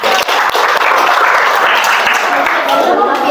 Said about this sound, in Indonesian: Beri aplaus buat kita semua